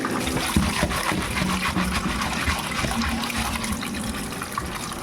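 Water splashes and trickles steadily as cleaned small mourola fish are rinsed in a bowl, a continuous close wash of running and sloshing water with no talk.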